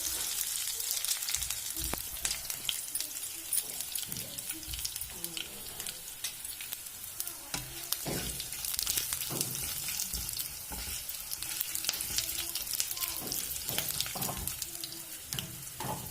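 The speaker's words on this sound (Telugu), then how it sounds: "కొంచెం ఆయిల్ వేసి తాలిం గింజలు, గార్లిక్, చిల్లీ, కొంచెం కరివేపాకు వేసి పెట్టుకోవాలి." Seeds, garlic, chili and curry leaves sizzle steadily in hot oil while being tempered for gongura chutney, a continuous close frying hiss with scattered pops and crackles and no talk.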